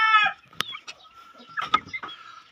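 A chick peeps with a few short, high chirps, close up. Faint rustles and soft knocks fill the gaps in a brief moment with no talking.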